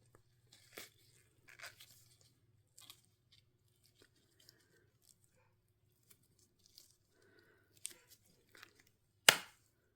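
Cast chess pieces being pulled out of flexible silicone molds: scattered soft peeling, squishing and crinkling noises in short bursts, mostly faint, with one sharp louder snap near the end and no talking.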